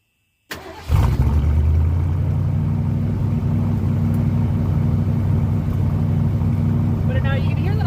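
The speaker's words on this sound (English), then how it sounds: "hear that glorious, glorious sound of the 400 cubic inch V8." A 1978 Ford Thunderbird's 400 cubic inch V8 with mufflers turns over and settles into a loud, steady, deep idle that rumbles on without a break.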